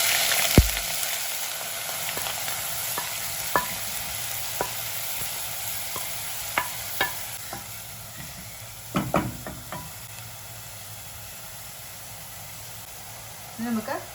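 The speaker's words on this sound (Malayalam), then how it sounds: "ഇനി സവാള ചേർത്ത് കൊടുക്കാം." Sliced onion frying in hot oil with mustard seeds and curry leaves for a Kerala-style beef kanthari curry, a steady close hiss and sizzle with scattered pops and light stirring clicks throughout.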